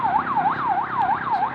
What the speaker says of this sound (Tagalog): Na may ambulansya nga nagakadto.